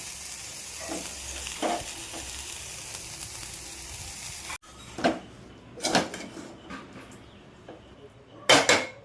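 Onions and chillies frying in oil in a pan, a steady soft sizzle with a spoon clinking and scraping against the pan in a few separate stirs, the later ones louder and closer.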